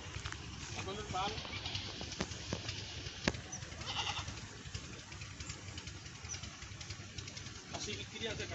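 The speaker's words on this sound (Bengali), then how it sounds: "ছাগলের পাল" A village herd of goats, including young kids, lets out several scattered bleats at moderate distance, while people talk over them almost continuously.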